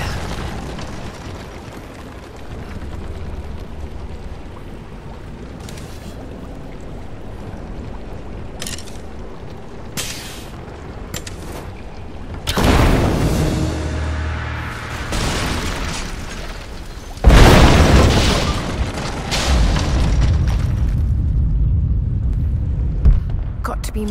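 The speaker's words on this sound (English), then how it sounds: "Looks like I'll have to use the Greek fire." Greek fire exploding in Rise of the Tomb Raider, loud deep booms with bursts and rumbling debris after a quieter stretch, with game speech present.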